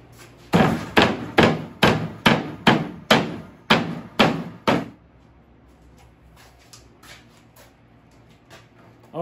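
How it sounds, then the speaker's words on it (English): Hammer beating wire mesh flat on a wooden compost sifter frame: about ten loud, evenly spaced metallic strikes in quick succession, then the blows stop and only faint background remains. "I'm gonna take the hammer and I'm gonna beat it down around to make it flat."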